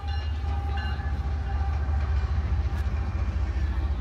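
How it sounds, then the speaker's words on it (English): A train rolls past at close range, its heavy rumble loud and steady throughout, with faint metallic squeals riding on top. "I wanted to make sure I get this train on video."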